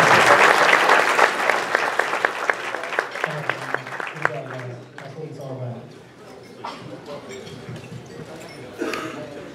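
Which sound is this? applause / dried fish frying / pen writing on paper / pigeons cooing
applause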